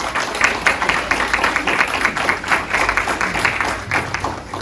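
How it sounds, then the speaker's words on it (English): Applause from an audience at an annual meeting of empower:abilities, recognising the staff; a steady patter of clapping fills the room throughout. "So give them a round of applause."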